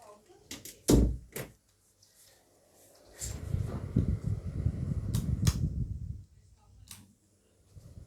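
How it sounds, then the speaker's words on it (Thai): A room door swings shut with a sharp near knock and a couple of quick follow-up clacks, then a stretch of rustling handling noise and further small taps. "ปิดประตูห้องแป๊บ"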